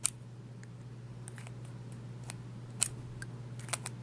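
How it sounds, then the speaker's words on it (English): A fountain pen cap with a red plastic enamel finish is snapped on and off, giving a few faint sharp clicks spread across a quiet background hum. "Snap on and off cap. You hear that click? Nice click."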